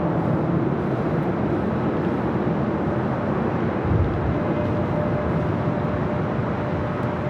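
A Japan Airlines Boeing 777-300ER rolls for takeoff on runway 24 left at LAX, a broad, steady jet engine roar held at a constant level throughout, heard from a distance with no one talking.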